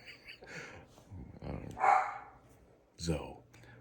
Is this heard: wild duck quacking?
no